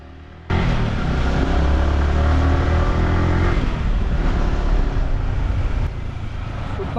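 A Yamaha R15M (V4) motorcycle engine roars loudly and steadily after a sudden start, holding a strong, dense drone close to the listener with a slight drop near the end.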